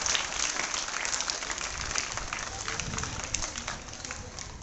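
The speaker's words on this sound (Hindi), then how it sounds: "सबके लिए पर जोरदार तालियां।" Loud, sustained applause from a crowd, dense steady clapping that fills the whole stretch without a break.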